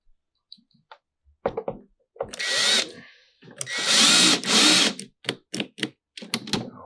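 Cordless drill driving screws into a Vivarium Electronics I-10 reptile rack, with short bursts of whirring and a couple of longer sustained runs mixed with clicks and knocks, close and loud, with no talk.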